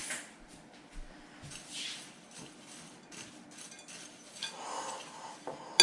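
A spoon scrapes and clinks softly against a bowl while spices are stirred into dry granola ingredients, making quiet intermittent rubs and taps with a few sharper knocks.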